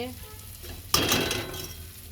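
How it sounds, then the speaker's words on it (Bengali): Spice paste being stir-fried for a mustard-poppy fish curry gives a sudden loud sizzle midway, with scraping stirs that fade over the next half second against a low kitchen hum. "এখানে মশলাটা কষানো হচ্ছে"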